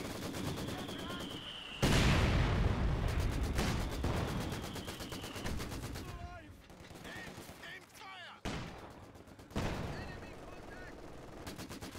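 Machine gun fire rings out in a Company of Heroes 2 match, with repeated loud bursts over a constant backdrop of battlefield gunfire, sharp onsets recurring near two, ten and later, while a voice speaks over part of it.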